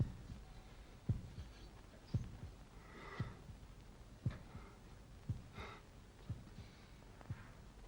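A heartbeat sound effect from classic Doctor Who: a steady, slow series of soft low thumps about once per second, quiet and regular, with faint breathy sounds between beats.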